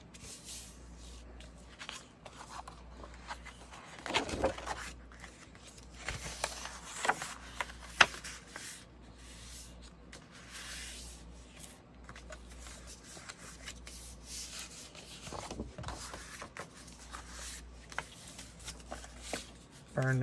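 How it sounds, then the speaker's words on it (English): Paper for a junk journal is folded along score lines, giving soft, scattered rustles and creases over a low hum, with quieter stretches between handling sounds. "you're going to fold on your score lines."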